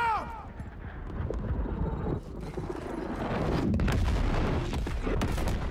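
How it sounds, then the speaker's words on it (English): Artillery fire in the Gears Tactics video game, a run of heavy booms and rumbling impacts building into a dense, loud barrage in the second half, with game voices briefly heard. "That's artillery."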